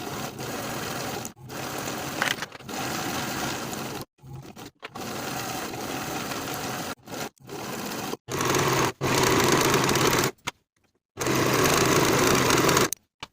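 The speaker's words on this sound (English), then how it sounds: "Sew these seams with a 3/8 inch seam allowance" A sewing machine stitching the seams of a cropped jacket with a 3/8 inch seam allowance: loud, close, steady whirring runs broken by short pauses and stops, several separate stitching passes.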